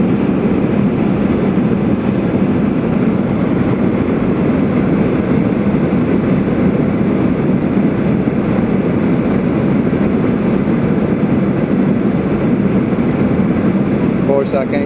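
Airplane engine drone heard from inside the cabin, seated on the left side behind the engine, a steady loud roar and rush that fills the whole stretch without change.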